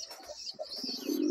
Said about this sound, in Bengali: সেই মুডে তখন হাতে ধরে রাখলেও পায়রা সুপার ডাক দেয়।